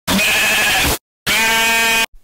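A goat bleats twice, loud and close, two sustained wavering calls separated by a short pause, with nothing else around them.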